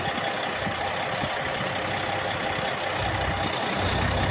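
A 2006 Kenworth W900 truck idling right after start-up, a steady loud diesel rumble with a constant mechanical hiss, close by and unbroken, no talk.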